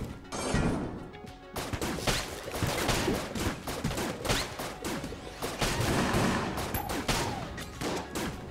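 Rapid, dense gunfire fills the Enter the Gungeon video game, a continuous fusillade of shots with crashes and shattering impacts throughout, no voices.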